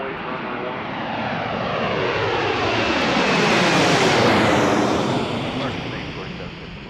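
A low-flying airliner passes loud and close over Washington Reagan National Airport, its broad engine roar swelling to a peak and then easing as it goes by, with no other sound competing.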